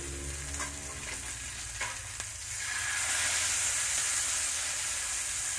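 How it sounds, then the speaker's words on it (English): Steelhead trout fillet frying in a pan with a little oil and butter, about a tablespoon or two: a steady, close sizzle that swells and grows louder after a faint clink near the start, with no talking over it. "what I'm doing now is just turning it on its side and cooking it for 3 minutes"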